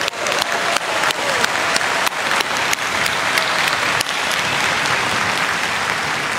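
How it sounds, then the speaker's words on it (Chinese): A large audience at an inauguration-night state banquet in Tainan claps loudly and continuously to welcome international guests and returning overseas compatriots, with sharp individual claps standing out from the dense, sustained applause. "我们是不是用最热烈的掌声欢迎感谢他们？"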